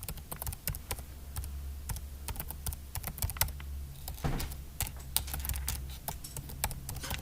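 Keys on a computer keyboard tapped while writing a letter in a word processor, irregular crisp clicks in short bursts with brief gaps, close and fairly quiet over a low room hum.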